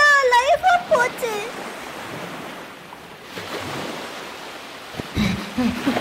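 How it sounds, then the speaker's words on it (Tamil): Cartoon rushing water surges in as a steady, loud broadband wash lasting several seconds, preceded by a short sliding voice-like tone and followed by a voice speaking at the end. "என்ன ஏதோ தண்ணி சத்தம் கேக்கு?"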